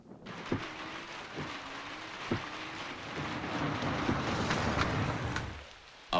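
Steady rain pours down in a dense, hissing wash with a few louder thuds scattered through it, then cuts off abruptly near the end.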